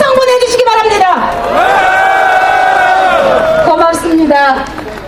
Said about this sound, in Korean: 우리 시민분께 커다란 박수와 함성 보내주시기 바랍니다.